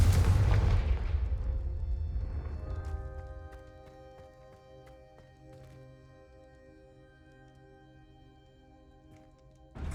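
A Confringo fire spell explodes in the video game Hogwarts Legacy with a loud boom that fades over a few seconds into quiet ringing game ambience, and a fresh burst comes at the end.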